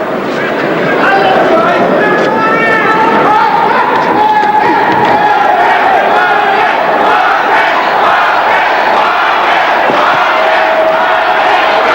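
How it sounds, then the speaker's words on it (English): A large crowd at a boxing match chants "Marquez" and roars continuously in a big arena, voices blending into a loud, sustained rhythmic wall of sound. "And the Norwood crowd picks up the opposite chant."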